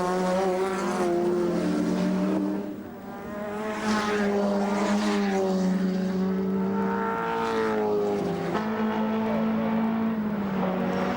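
Race car engines roar loudly and continuously at the 1987 Bathurst 1000, with harmonic pitch rising and falling as cars pass through a corner; no voices are heard.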